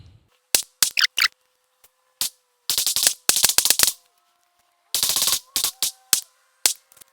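A Glock pistol fires while its sight is being zeroed, sharp loud cracks in separate shots and quick clusters, each cut off by silence.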